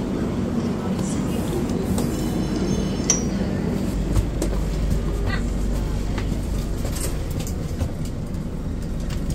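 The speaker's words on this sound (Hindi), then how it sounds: "ट्रेन यहाँ पे पहले से ही लगी है" Ambient sounds of a train standing at the platform before departure from Mangaluru Central, a steady low rumble with faint clinks, while people talk nearby.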